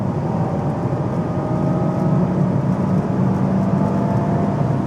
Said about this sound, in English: 60 miles an hour, transmission in sport, and I'm flooring it